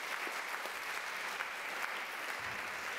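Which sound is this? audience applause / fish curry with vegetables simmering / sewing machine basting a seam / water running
audience applause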